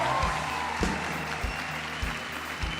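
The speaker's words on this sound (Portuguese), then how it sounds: "Igreja, você pode celebrar Jesus mais forte com suas palmas" Church congregation clapping hands during a worship service, a steady wash of applause with periodic stronger beats, moderately loud and without speech.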